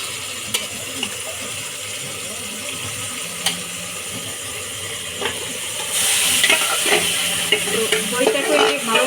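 Chicken fries with spiced yogurt in a pan while being stirred: a quiet sizzle carries scattered utensil clicks, then the frying grows louder and busier with steady stirring toward the end, with no speech.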